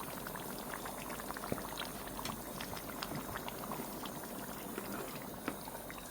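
Oxtail soup bubbles in a pot at a steady boil, a dense, continuous burble of popping bubbles with occasional sharper pops, heard fairly close and on its own.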